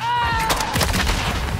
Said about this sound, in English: Oh my god, yeah, dude, we're getting sniped right now.